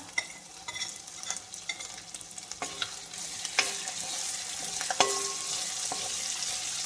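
Garlic tossed into hot oil in a pan while making a beef pickle, a soft continuous sizzle broken by scattered clinks and scrapes of a spoon stirring, close and fairly quiet.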